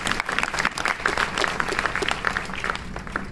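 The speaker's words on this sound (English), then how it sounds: "please give a big round of applause to Carter" An audience at a panel discussion about the road to the Oscars applauds steadily. Dense, even clapping fills the whole stretch at a consistent loudness, with no pauses.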